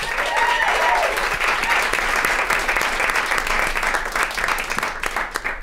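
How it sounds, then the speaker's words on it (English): Panelists at a civic engagement event get a dense round of audience applause, a loud, steady roar of clapping that stays full before thinning slightly at the end, with faint voices mixed in. "give them a round of applause"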